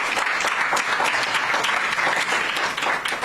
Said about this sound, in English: Let's give a round of applause to the candidate for the responses he has had.